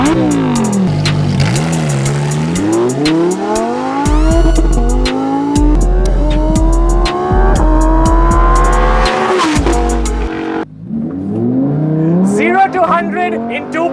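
Lamborghini Huracan Evo in Corsa track mode accelerating hard, its engine rising through the revs in repeated sweeps with sharp gear changes between them, loud and close throughout, a brief lift near the end, then revving again.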